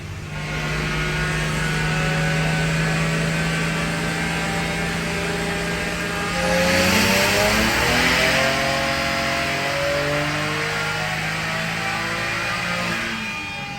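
A BMW 335i fitted with 19T turbos runs on a dyno, with a loud, sustained engine drone whose pitch sweeps upward partway through the pull before settling again.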